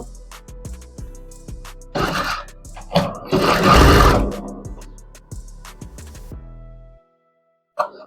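Sewing machine zigzag-stitching the lining of a blouse, with bursts of needle clatter and a denser whirring run in the middle, then stopping into silence before a brief final knock.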